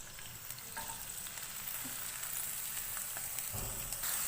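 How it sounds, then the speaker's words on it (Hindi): Finely chopped medium onion frying in hot oil, a soft continuous sizzle with a few faint stirring touches, quiet and close, no talking. "ऑयल गर्म हो गया है, हम इसके अंदर प्याज ऐड करेंगे"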